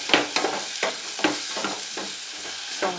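Ingredients sauté in a pan for a macaroni soup, with a soft, steady sizzle under rhythmic spatula strokes scraping and stirring about twice a second, heard up close.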